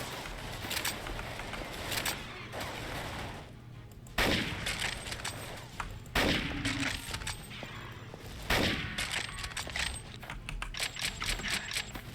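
Gunfire in the video game NecroVisioN: Lost Company, with sharp, loud shots in uneven bursts and single cracks spaced through the stretch, some close and some distant.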